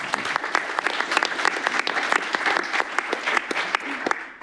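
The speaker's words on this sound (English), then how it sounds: "Let's give another round of applause." Audience applause closing a presentation at a security conference, steady dense clapping from a crowd holding at an even level throughout, with a few sharper individual claps standing out.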